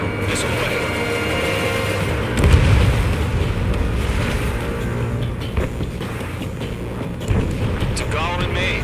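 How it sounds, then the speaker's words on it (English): A missile launch and explosion from the jet combat game Ace Combat 7, heard as a continuous roar of engine rumble with a deep boom swelling around the middle and further bursts later, dense and loud throughout under radio chatter. "Mage 2, missile away"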